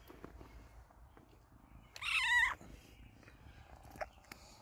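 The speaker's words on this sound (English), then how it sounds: "This loose little kitten just got in, just meowing as I was approaching." A small loose black kitten gives one loud, close meow lasting about half a second midway through, with a few faint soft sounds before and after.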